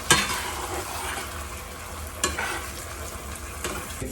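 Chicken stirred with salsa, beans and corn in a pan over medium heat, a soft steady sizzle with a few distinct scrapes of the utensil across the pan.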